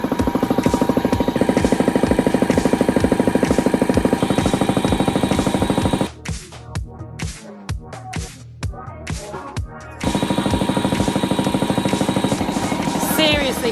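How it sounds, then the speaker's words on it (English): A 1940s air compressor runs loud and close with a steady rhythmic chugging pulse, cutting out for a few seconds midway before resuming at full volume. "This compressor is from the 1940s."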